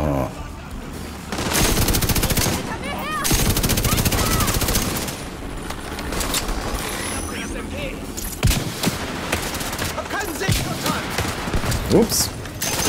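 Turret gunfire in the video game The Division 2, with long dense bursts of rapid automatic fire that rattle loudly and near, broken by brief pauses and heavier booms, while someone talks intermittently beneath.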